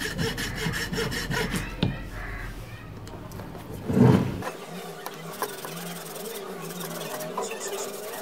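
A hand file rasps across the worn, uneven face of a carbon brush from a Hilti drill machine, with close, steady rough strokes over the first few seconds before a louder scrape and quieter shop noise.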